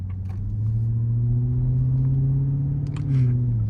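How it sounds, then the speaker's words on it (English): A Ford F-150 Raptor R pickup with its exhaust opened up drones with a steady, loud low engine rumble throughout, swelling slightly near the end as if revving. "But it still sounds incredible, especially now that the exhaust is opened up."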